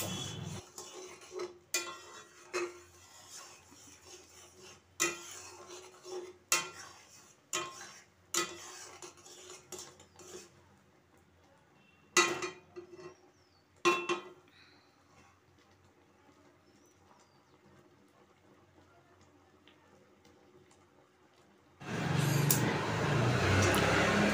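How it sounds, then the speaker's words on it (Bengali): Thick amla pickle bubbling in a pan while a spoon stirs it, sending out a run of sharp clinks and scrapes against the metal. A quieter stretch follows, and a loud, broadband rush takes over at the end. "এটাকে আমি ফুটিয়ে নিচ্ছি যতক্ষণ একটু চটচটে হচ্ছে"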